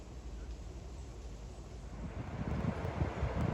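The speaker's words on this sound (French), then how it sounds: "Super temps, mais grand vent de face aujourd'hui." A strong headwind buffets a cyclist riding along the Rhône in November, a steady roar of wind noise across the microphone that swells louder and gustier toward the end, with no one talking.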